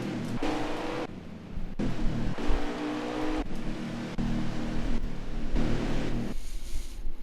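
Race cars on pit road at Daytona in an online racing league series, engines droning and shifting pitch in steady layered passes, fairly loud and continuous with no talk.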